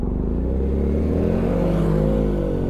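A Ducati Panigale motorcycle rides on the road ahead, its engine a steady low droning rumble that holds through the whole stretch, heard over continuous road and wind noise.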